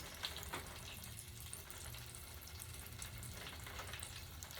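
Jalapeños stuffed with shrimp, crab meat and cheese deep-fry in hot oil, giving a faint, steady bubbling sizzle that runs evenly throughout without any talk.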